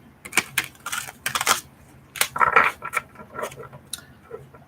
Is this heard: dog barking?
no